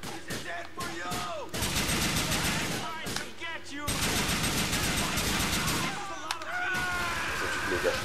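Heavy gunfire from a firefight in the video game GTA 4 mission Hostile Negotiation, loud sustained bursts of automatic fire with single shots and impacts, broken by short lulls, while someone talks over it.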